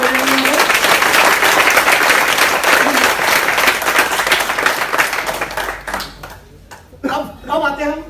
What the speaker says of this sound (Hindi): एक बार जोरदार धन्वंतरि के लिए हम तालियां बजाएंगे